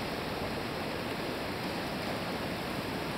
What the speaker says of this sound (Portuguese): Se vê bem a passagem da água, vai descendo